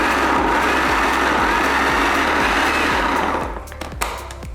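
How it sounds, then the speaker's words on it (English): A blender whirring through a vegan meatball mixture, a loud continuous motor drone with a rhythmic chopping pulse that drops off near the end into a few knocks. "we definitely want it blended, all blended together and blended pretty well"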